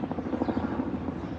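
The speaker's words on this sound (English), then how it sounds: "Oh God, look at this helicopter shit." A helicopter flies over Soho in downtown New York, its steady rotor chop thudding loud and close for a moment, with no voices over it.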